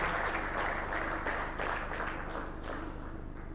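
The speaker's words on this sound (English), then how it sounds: "Can we give another round of applause for the work well done?" A room of workshop attendees gives a steady round of applause, even and continuous clapping throughout at moderate volume, with no talking over it.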